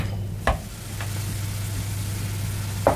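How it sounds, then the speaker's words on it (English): Ground beef and onions browning in a preheated frying pan, a steady close sizzle over a low hum, with a few spatula scrapes and knocks breaking in. "The first thing we're going to do is start by browning the onions and the beef."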